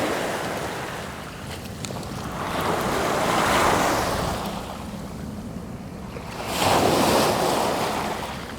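Waves roll onto a muddy shore as the tide begins to go out, surging in two slow swells with a constant wash between them. Gusting wind buffets the microphone, and no voices are heard.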